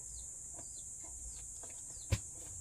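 A red laying hen gives soft, faint clucks at intervals in a quiet setting, with one brief thump near the end.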